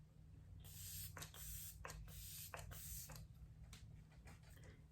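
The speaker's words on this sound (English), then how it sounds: "I'm going to be using the Flower Beauty Seal the Deal Hydrating Setting Spray" Several quick, faint spritzes from a bottle of Flower Beauty Seal the Deal Hydrating Setting Spray onto the face, each a short hiss over a low steady hum.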